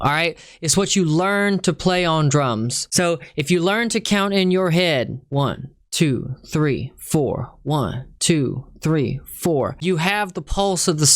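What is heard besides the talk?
No everyday noise stands out behind the speech.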